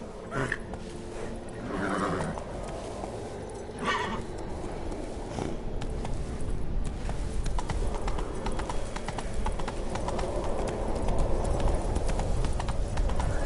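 Hooves of Roach, the horse in The Witcher 3 video game, clip-clop at a steady gallop for the whole stretch, loud and close. A neigh breaks through once or twice, and low game noise runs underneath.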